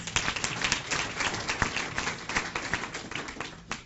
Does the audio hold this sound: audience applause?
yes